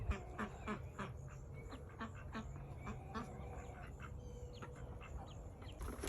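Hungry farm ducks quack in a busy, continuous chorus, mixed with other fowl calls, including chickens. The birds sound moderately close over steady outdoor background noise.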